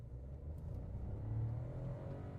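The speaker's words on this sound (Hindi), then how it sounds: "अब देखते हैं, मैं लॉन्च भी नहीं करूँगा गाड़ी को, नॉर्मली उठाऊँगा और एक्सेलेरेटर पे पूरा पुश दे दूँगा।" A 2025 Skoda Kylaq under full throttle in sports mode gives a low, muffled engine drone that climbs gradually in pitch, heard faint and steady from inside the car.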